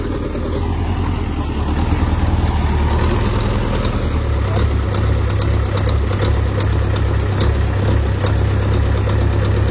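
A fishing boat's engine chugs steadily and loudly with a low rumbling throb and some rattling, running alone without any talk.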